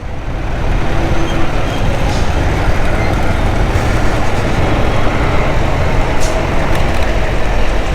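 A road jammed with traffic rumbles loud and close, with heavy engines of buses and trucks droning steadily under a dense wash of vehicle noise.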